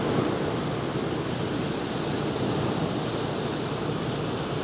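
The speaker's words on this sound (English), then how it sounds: "Figure I could die happy as long as I was looking at them waves crash down." Ocean waves crashing onto shore in a dense, unbroken roar of surf, steady and moderately loud throughout with no voices.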